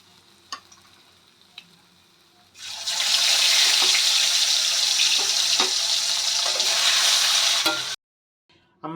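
Tilapia fish frying in hot oil, Barishal style: a loud, steady, close sizzle starts after a short quiet stretch, holds for about five seconds, then cuts off abruptly.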